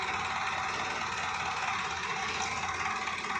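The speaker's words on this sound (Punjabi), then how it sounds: "ਸੋਨਾਲੀਕਾ ਟਰੈਕਟਰ ਆ" A Sonalika tractor idles steadily with a continuous mechanical rumble and faint rattling. It sits next to a trolley half loaded with sugarcane, and the sound stays close and constant without talk.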